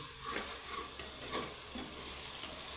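Sliced onions fry for a Kerala-style pork curry, a constant close sizzle with soft scraping strokes as they are stirred around the pan.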